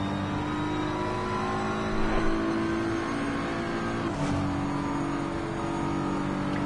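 BMW race car in Assetto Corsa Competizione at the Kyalami circuit, heard from the onboard cockpit position: a steady, loud engine drone with shifting pitch and brief revving surges, continuous throughout.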